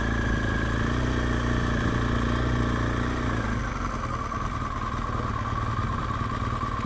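A BMW GS motorcycle engine runs steadily and loud throughout on a Sunday ride through the Peak District, holding a low, even drone that thins slightly partway through, with no voices.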